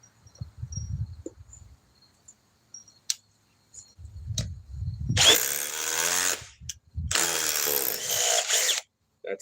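A Ryobi power tool drives a socket in two loud bursts of whirring and grinding, each lasting about two seconds, after quieter clicks and handling noises.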